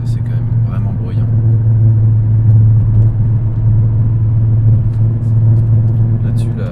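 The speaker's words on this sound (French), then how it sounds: "Dès qu'on met les gaz, c'est quand même vraiment bruyant." A Mercedes CLK500 driving with a loud exhaust gives off a steady, deep, droning rumble that stays close and heavy the whole time, with someone speaking faintly over it.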